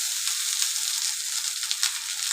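Rice tossed into potatoes frying in a pan with onion, garlic and chilli, giving a steady bright sizzle with light stirring scrapes, close and continuous.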